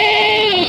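Native goat bleating at the Padre Garcia market in Batangas: a single loud, close, wavering bleat held for under a second, alone with no talk.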